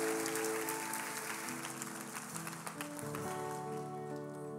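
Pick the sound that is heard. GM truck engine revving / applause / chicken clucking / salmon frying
applause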